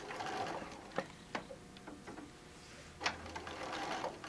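A sewing machine stitches a cell phone bag with a continuous fast whirring hum at low level, broken by a few sharp knocks and clicks as the fabric is guided.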